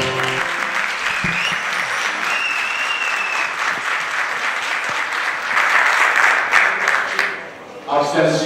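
An audience at a TCDD choir concert in Ankara breaks into sustained, dense applause that swells, briefly dips, then resumes, with a voice speaking over it near the end.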